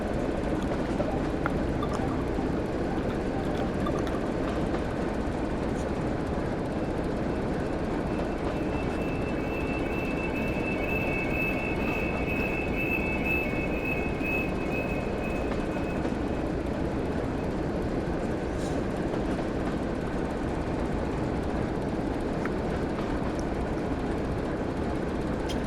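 Steady, continuous rumble of a train moving along track during a shunting session in Somerset in Train Sim World, with a faint high whine rising briefly midway; no talking.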